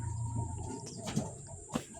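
Pet pigeons kept in an open loft coo softly over a low, steady background, with a couple of brief louder calls standing out near the end.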